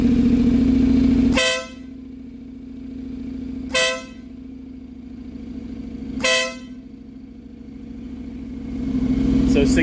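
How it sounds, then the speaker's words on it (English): Denali Sound Bomb air horn fitted to a Honda CTX700 motorcycle sounds in three loud, short blasts spaced a couple of seconds apart over the idling engine, close to the microphone. "we're going to crank it up and take a listen to what the new horn sounds like"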